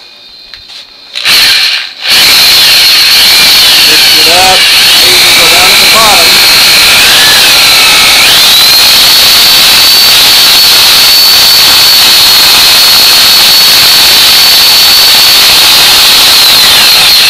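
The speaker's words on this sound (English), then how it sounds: "Here's our sturdy drill." A power drill whirs loudly and steadily, its pitch shifting as it churns through thick granite countertop compound, running continuously after a brief start.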